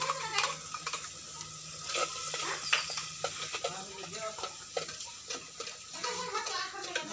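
Tomato puree masala sizzling and crackling as it is sautéed in a pan for a spicy village-style egg curry, with irregular soft pops and stirring, faint beneath a voice.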